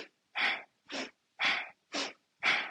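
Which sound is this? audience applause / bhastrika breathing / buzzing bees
bhastrika breathing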